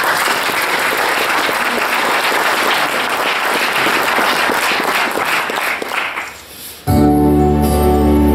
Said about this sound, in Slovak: Poprosím pre nich potlesk.